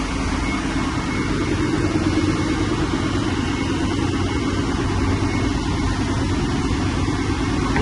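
A sanding and calibrating machine runs at its first speed, giving off a loud, steady, broadband mechanical roar and hum that holds unchanged throughout with no voices.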